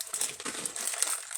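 Plastic packaging crinkles and crackles continuously as a doll is pulled free from it, a close, busy rustle with no talking.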